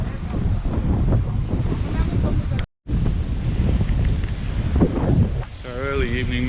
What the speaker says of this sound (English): the waves are crashing along on the beach